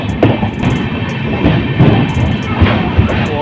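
Rumbling interior noise of an Intercity Express train in a general coach as it pulls into Araria railway station in Bihar, with steady loud roar and scattered rail clatter and knocks.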